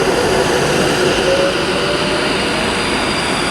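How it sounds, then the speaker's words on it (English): An Avanti West Coast Class 390 electric train, unit 390-154, running at Birmingham International on the West Coast Main Line, a loud steady rumble and rolling hum close by with faint squealing tones. "the 11:40 Avanti West Coast service to London Euston"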